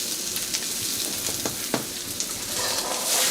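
Red and orange peppers stir-fry in a wok with chicken, giving a steady close crackling sizzle with occasional scraping stirs, and no talk.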